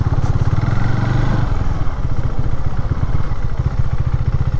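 A motorcycle rides along a road in Goa, its engine droning steadily and close for several seconds, with mechanical clatter and no speech.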